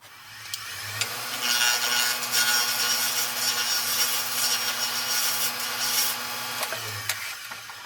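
A woodturning lathe parts off the bottom tenon of a wooden salt and pepper mill body, giving a steady rasping cut over a low motor hum, close and continuous for several seconds.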